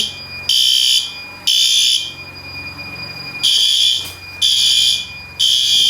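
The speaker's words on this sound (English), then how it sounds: "Our main horn strobe is working." A fire alarm horn strobe sounds during a building systems test, giving loud, harsh buzzing blasts in a repeating pattern with short gaps between bursts.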